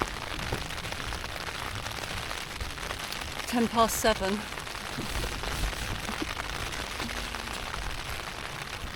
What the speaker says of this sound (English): Rain's due to finish at 8 o'clock